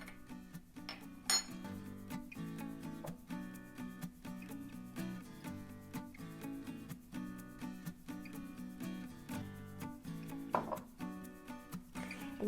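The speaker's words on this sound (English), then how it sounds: "I'm going to muddle my mixture in a little mixing bowl" Sugar cube and mint leaves muddled in a mixing bowl: repeated scraping and clinking of a muddler against the bowl in an uneven rhythm, close and fairly quiet, with music playing underneath.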